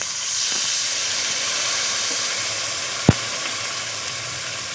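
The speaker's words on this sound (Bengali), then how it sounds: "মশলাটি পুড়ে যাওয়ার জন্য আর একটু দিয়ে দেবো জল।" Water hits a frying paste of ground coriander, cumin, chili and turmeric in a pan for a fish curry, giving a loud, steady steam hiss and sizzle with one brief knock partway through.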